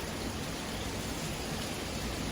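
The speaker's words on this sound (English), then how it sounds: "we still have some sustained winds and everything here." Steady, broad roar of strong Hurricane Ian winds at Walt Disney World, Florida, constant and loud throughout with no clear gaps or voices.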